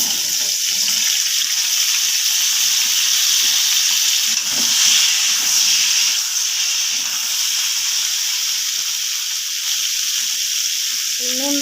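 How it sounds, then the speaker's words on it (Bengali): Cut vegetables fry in mustard oil in a wok, giving a steady, loud sizzling hiss with no speech over it. "এবার সব যে সবজিগুলো কেটে রেখেছিলাম তেলের মধ্যে দিয়ে ভেজে নেব।"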